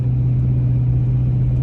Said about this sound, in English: I'm actually driving in the truck right now.